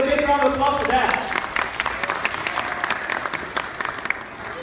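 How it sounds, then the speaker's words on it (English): Loud audience applause fills the room, a dense wash of clapping that carries on steadily before slowly thinning out. "Let's give a big round of applause for that."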